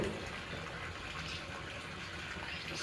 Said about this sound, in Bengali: দেখো কতখানি জল ভর্তি হলো